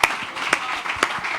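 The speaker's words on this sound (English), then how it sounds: "please also give the panel a round of applause" A conference audience applauds a panel after a discussion about twenty years since Hurricane Ivan. The clapping is brief and moderately loud, with a few sharper claps standing out from the steady patter.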